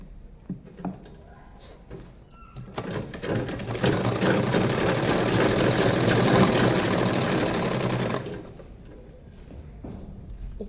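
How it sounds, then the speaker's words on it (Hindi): Sewing machine top-stitching a single line along a belt, a steady dense mechanical whirr running for about five seconds, close and fairly loud, with quieter handling clicks before and after. "अब हम इसके ऊपर एक टॉप सिलाई लगा देते हैं एक पैर की।"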